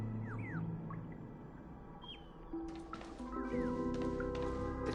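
Short chirps and whistles from a bird in the video game Honkai Star Rail come through intermittently, moderately faint, over a low ambient game background with some tonal hum.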